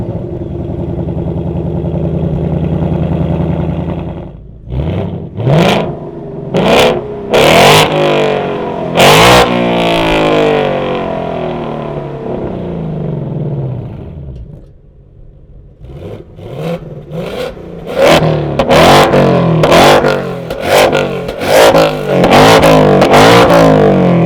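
Ford Mustang GT V8 with its resonator removed, heard nearby as a steady low rumble that gives way to a string of sharp revs, dips to near silence, then returns with a rapid series of loud blips and pulls.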